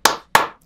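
Three sharp, loud hand claps ring out close by in quick succession, each with a short decay and no voices.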